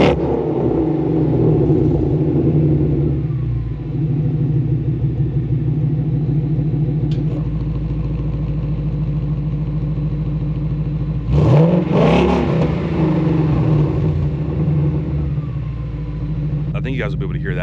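A Ford Mustang fitted with a custom Magnaflow exhaust rumbles and revs close by, a steady deep engine drone with a sharper throttle blip near the middle, continuing throughout.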